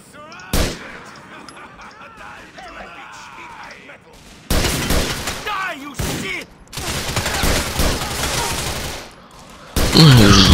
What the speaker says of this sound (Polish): No już z Uziku do mnie strzelają